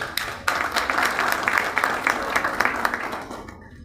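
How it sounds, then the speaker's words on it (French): An audience at a Human Rights Day anniversary ceremony breaks into applause, a sustained crowd clapping with distinct individual claps, starting sharply and fading out near the end. "je vous demande un grand applaudissement"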